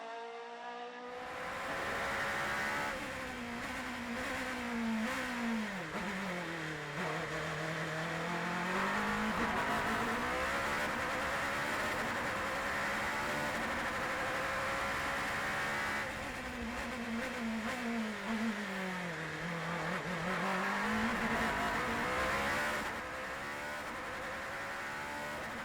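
Norma M20 FC prototype race car on an onboard lap at the Sternberg circuit, its engine loud and continuous, pitch climbing and dropping through repeated gear changes and braking zones, with no talking.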